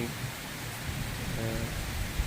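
Heavy cloudburst rain pours steadily in Pothwar at night, a dense continuous roar of downpour with a low rumble of thunder beneath it, loud and unbroken throughout.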